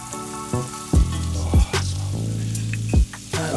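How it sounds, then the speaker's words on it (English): Chilies and onions sizzle and crackle in hot oil for a chicken madras, a steady close fry broken by a few louder bursts of spattering. "So the chilies are going into the oil with the onions"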